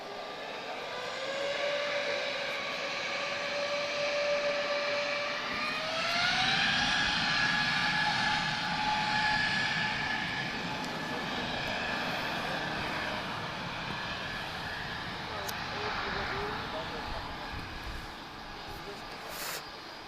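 An airliner with CFM LEAP-1A jet engines passes at Lisbon Airport, giving a steady hairdryer-like whine with rising tonal notes over a broad roar, while someone talks over it.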